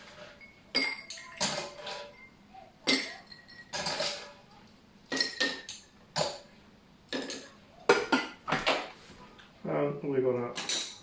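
Ice cubes for Earl Grey iced tea drop into a glass as a run of sharp, close clinks and rattles spread over several seconds, with a tumbling clatter near the end and no talking.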